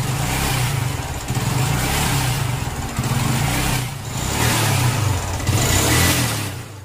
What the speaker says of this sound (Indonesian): Suara mesin tidak stabil padahal tangan kita tidak mengoper gas.